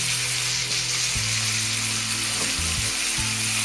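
Butter sizzles and fries in a hot pan beside a searing Irish beef steak, giving a steady close hiss with low hum tones running underneath throughout.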